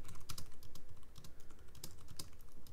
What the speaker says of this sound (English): You can bet you I'm typing it in chat right now.